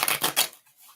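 Tarot cards shuffled by hand in a few quick, close papery riffles over the first half-second, then trailing off into near quiet.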